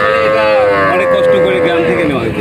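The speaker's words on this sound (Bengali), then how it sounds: "বিগ সাইজের ডাবল বডির গাভী নিয়ে আসছেন" A Holstein Friesian dairy cow at a busy cattle market gives a long, drawn-out low that holds steady for about two seconds, with people talking nearby.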